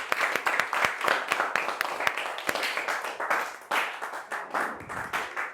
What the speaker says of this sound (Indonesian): Tepuk tangan buat Azumi